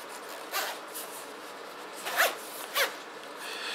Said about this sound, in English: This zipper feels really nice when you're opening and closing.